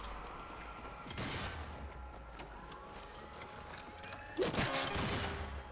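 Shotgun fire in the video game Zombie Army 4: Dead War, two sharp blasts a few seconds apart with metallic mechanical clicks and game ambience in between.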